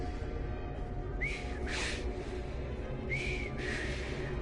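A character whistling in the Assassin's Creed Syndicate video game, two pairs of short rising notes separated by a pause, clear over a low ambient hum.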